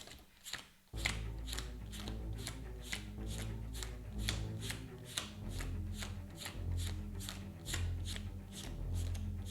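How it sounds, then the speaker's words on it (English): A deck of Arkham Horror game cards shuffled repeatedly, with a steady run of crisp riffling bursts close by over a low background hum. "And then we can shuffle her deck back up."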